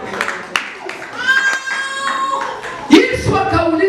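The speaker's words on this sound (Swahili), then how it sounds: "Tupige Bwana makofi mazuri." Congregation clapping hands together at a church thanksgiving service, a steady run of claps heard under loud talk and singing, with a louder burst near the end.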